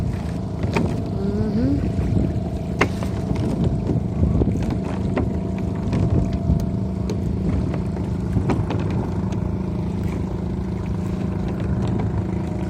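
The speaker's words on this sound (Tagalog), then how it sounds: "Ayan na, magalaw na yung bangka." Steady low rumble of a boat on open water, with wind buffeting the microphone and faint sloshing throughout.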